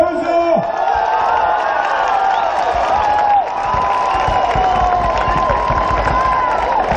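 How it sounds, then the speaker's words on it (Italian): Crowd applause and cheering fill a fight arena between rounds of a European Combat League title bout, a steady loud wash of clapping and voices with whoops, with an announcer's voice over it. "Grazie, terzo round, applauso!"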